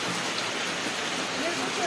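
Heavy monsoon rain pours down outside a house, with water running in under a closed gate, a dense, constant hiss that is loud and close.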